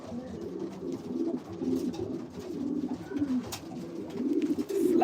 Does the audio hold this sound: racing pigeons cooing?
yes